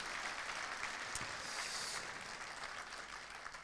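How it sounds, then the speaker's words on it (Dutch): A studio audience at a Dutch amateur football club's season-finale show applauds the season's goalkeeper, a fairly quiet but continuous wash of clapping with a single sharper knock partway through. "geef een applaus, Kevin Verboom, de keeper van dit seizoen."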